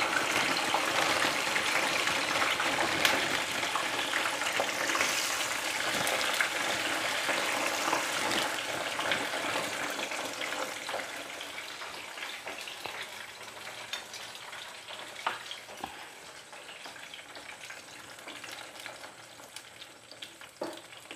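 French fries frying in hot oil, a dense and steady sizzle with crackling bubbles that holds for the whole stretch and eases slightly toward the end, with no talking.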